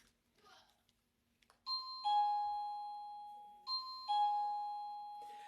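A plug-in wireless doorbell chime rings twice indoors, each a bright two-tone ding-dong with a sustained ringing decay, clear and fairly loud after a quiet start.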